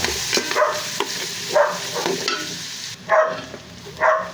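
Aromatics for pancit canton sizzle in a pan, with a steady close frying hiss broken by several sharp clacks and scrapes of stirring at irregular intervals.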